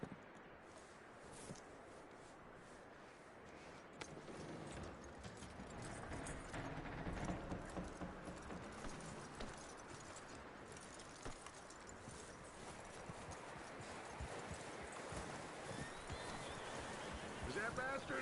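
Horse hooves clip-clop in Red Dead Redemption 2 as a calmed horse moves, a steady irregular patter running through the whole stretch over game ambience, with speech-like voices mixed in.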